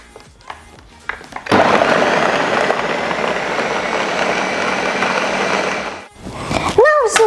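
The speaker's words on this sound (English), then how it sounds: "Now I'm going to put the lid on and blend it up." A countertop blender whirs steadily for about four and a half seconds, blending vanilla extract, salt and other vegan caramel ingredients, after a few clicks of the lid going on; talk follows once the motor stops.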